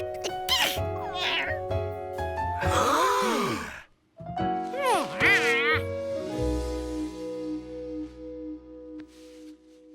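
A cartoon cat meows and groans in several drawn-out, wavering cries, loud and close, with a short silent gap partway and a low rumble joining near the end.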